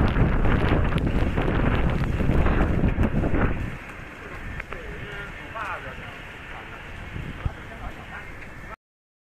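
Strong typhoon wind from Typhoon Saola in Hong Kong roars and buffets the microphone loudly for about four seconds, then eases to a lower, gusty rush with a voice speaking over it.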